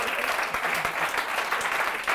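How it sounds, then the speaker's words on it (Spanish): An audience at an education talk on executive functions breaks into applause, a dense wash of clapping hands that stays steady and fairly loud for a couple of seconds. "Un aplauso para motivados como él"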